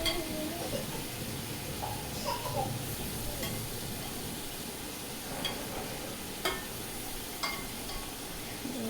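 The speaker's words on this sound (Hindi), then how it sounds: "अब हम इसको डालकर अच्छी तरह भून लेंगे" Pre-boiled beef being fried and stirred in a pot for pulao, a steady close sizzle with occasional scraping and clinks of a spoon against the pot.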